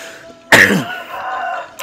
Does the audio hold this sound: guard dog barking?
no